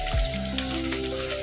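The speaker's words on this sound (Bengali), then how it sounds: "দেখুন বন্ধুরা, আলুটা সুন্দর ভাজা ভাজা হচ্ছে," Potatoes deep-frying in oil for a mutton curry, a steady close sizzle running throughout the short moment with no voices.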